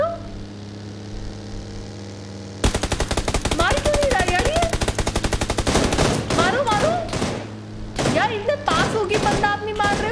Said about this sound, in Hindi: मारो मारो अनीश, मारो मारो,